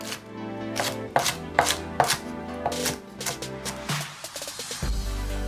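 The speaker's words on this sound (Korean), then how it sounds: "대파 3분의 1 줄기는 쫑쫑 슬라이스" A knife slicing green onion on a cutting board, about a dozen crisp chops in an uneven rhythm, close and clear with no voices.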